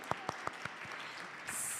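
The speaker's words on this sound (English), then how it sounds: "yay, applause for everyone who came" A few sharp, scattered hand claps from an audience at a sold-out community show, quiet and spaced apart, followed by a soft hiss.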